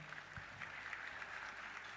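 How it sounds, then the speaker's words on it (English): An audience at an education policy conference claps, a faint, steady wash of applause heard from a distance in a large hall. "Huge round of applause everyone for Mr."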